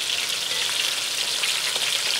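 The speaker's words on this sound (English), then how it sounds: "continue with the browning of the other parts of the meat" Chicken pieces for Jamaican brown stew chicken browning in a frying pan, a loud, dense and continuous sizzle heard up close and alone.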